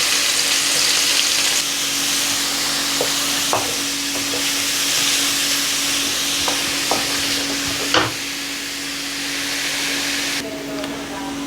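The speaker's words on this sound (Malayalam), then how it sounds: "നമുക്ക് ആ ഉള്ളി ഇട്ട് കൊടുക്കാം" About three medium onions, finely chopped, sizzle steadily in hot oil in a pan, with occasional scrapes and clicks of stirring over the constant frying hiss.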